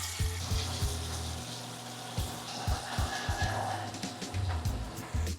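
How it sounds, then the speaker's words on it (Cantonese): Basa fish steak deep-frying in hot oil gives a quiet, steady sizzle, with occasional soft knocks and clinks from utensils. "咁炸到佢一間浮晒面上咗色咧"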